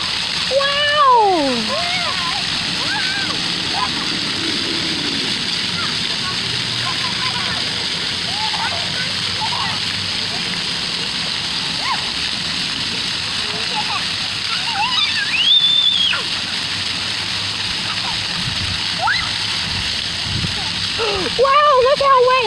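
Water splashing and sloshing at an outdoor splash pad, a continuous spray under frequent voices and excited shouts.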